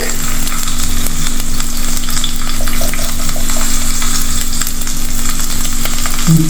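Garlic fries in a pan for a Kerala shrimp and jackfruit curry, making a loud, steady sizzle that stays close and constant throughout, with faint scraping and a low hum underneath.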